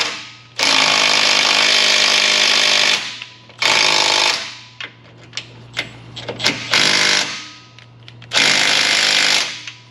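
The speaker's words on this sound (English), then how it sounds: "I'm just gonna get bigger 3/8 ratchet, impact ratchet" Impact ratchet hammering at bolts on a 2012 Chevrolet Avalanche 5.3 4x4, in three long loud rattling bursts with shorter stuttering blips between them, close up over a steady low hum.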